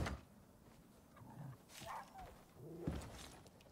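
A wolf growls in the survival video game Icarus, a few low, rough snarls rising at intervals over faint background noise, with no talking.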